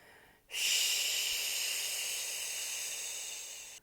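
A single long, forceful exhale through the teeth makes a steady hissing 'shch' during a yoga backbend, starting abruptly and holding loud and close for about three seconds before cutting off.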